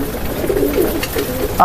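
Pigeons resting in their loft give soft, low cooing calls, a few short murmuring phrases close by with a voice rising at the end.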